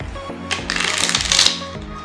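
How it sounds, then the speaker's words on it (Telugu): A deck of ordinary playing cards is shuffled by hand, a short loud riffle of flicking cards that swells and stops within about two seconds. "ఓకే, మీ ముందు దీన్ని పలుమార్లు షఫుల్ చేస్తున్నాను"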